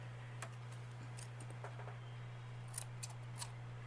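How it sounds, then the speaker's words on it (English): A few crisp snips from scissors cutting yarn, short and sharp, scattered over a quiet steady background hum. "then you want to take your scissors"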